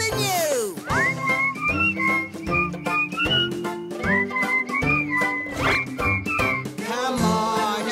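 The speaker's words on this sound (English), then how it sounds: "Come on and give a whistle. Let me hear your whistle." A whistled melody in a Jimmy Two-Shoes song, clear and close, with sliding, bouncing notes over rhythmic musical accompaniment and percussive beats.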